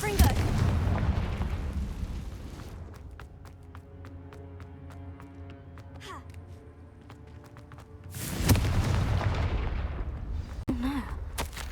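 Confringo fire-spell blasts in the video game Hogwarts Legacy: a loud, booming explosion at the start, a quieter stretch, then a second heavy burst of blasts near the end.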